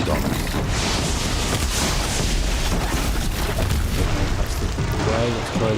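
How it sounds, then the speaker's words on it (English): Fire sticky bombs bursting in Horizon Zero Dawn, a dense run of booming, crackling detonations that fills the scene loudly and continuously, with speech-like sound mixed in. "let's try these fire sticky bombs"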